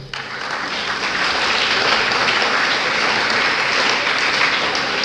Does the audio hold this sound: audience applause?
yes